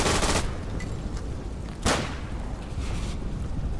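Friendly gunfire in the wartime shooter Day of Infamy: loud bursts of rifle and machine-gun fire, one burst at the start and a sharper crack in the middle, over a constant noisy battlefield wash.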